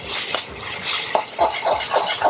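A utensil stirs Schezwan fried rice with chutney in a pan, giving close scraping and soft clinking strokes in an uneven rhythm.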